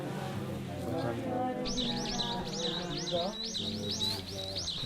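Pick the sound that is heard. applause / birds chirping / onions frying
birds chirping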